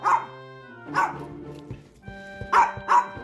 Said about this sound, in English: you growl at me again.